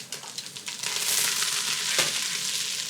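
Mirepoix of root vegetables, shallots, onions, garlic and ginger frying in a pan, with a few quick scrapes at first and then a strong, even hiss that holds close and loud, with no speech.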